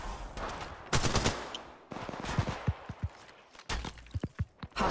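Gunfire in the video game Apex Legends: rapid bursts and single shots crack out in irregular clusters with short gaps between them, fairly loud and close, mixed with a few sharper impacts.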